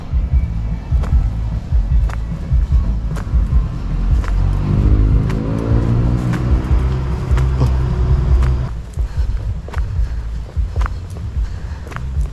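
A motorized tricycle engine runs close by, its rumble rising in a sweeping whine as it pulls away, then settling to a rougher, steady drone with scattered knocks and clicks.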